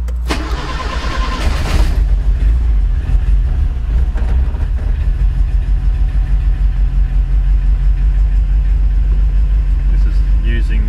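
Nissan Pulsar N12 turbo engine idling right after a dead cold start on normal high-octane pump fuel, a steady close rumble throughout with a brief louder burst near the start.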